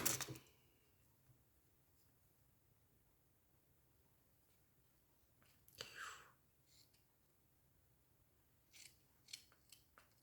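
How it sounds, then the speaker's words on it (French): Scissors cutting paper decoration for a party glass, a few quiet close snips in short bursts with long quiet gaps, soft whispery sounds in between. "Je vais le couper là."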